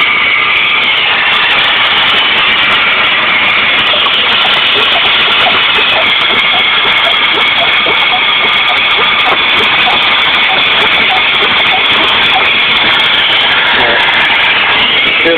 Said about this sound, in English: Hear the idle coming up?